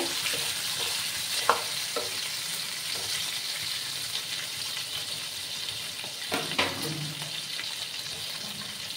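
Shing fish frying in hot oil in a pan, a steady, soft sizzle running throughout with a few sharp pops and spits near the middle.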